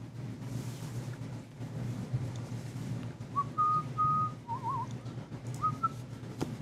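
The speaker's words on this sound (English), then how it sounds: "I'm whistling a few tunes" A person whistles a few short melodic notes, faint and sparse over a low hum of background noise, with brief pauses between phrases.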